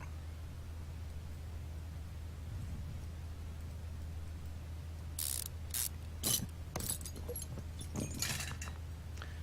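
Ratchet clicks sound in short bursts as a tie rod is removed in the video game Car Mechanic Simulator 2015, arriving in the second half over a steady low hum.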